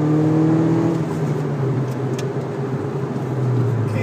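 Inside the cabin of a 2013 MINI JCW with the resonator removed, cruising in fifth gear around 66-68 mph; a steady low engine drone with a faint pitch drift and road hum throughout.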